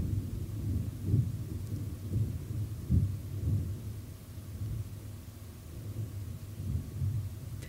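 Deep thunder rolls and rumbles through a thunderstorm, low and steady with a few heavier swells, under a soft wash of rain.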